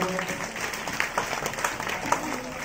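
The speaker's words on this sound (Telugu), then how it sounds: "మరి వీరందరికీ చప్పట్లతో వందనాలు తెలియచేద్దాం" Applause from a church congregation in thanks to the decorators at a St Anthony's mass, a soft, steady patter of many hands clapping, moderately distant, with room murmur underneath.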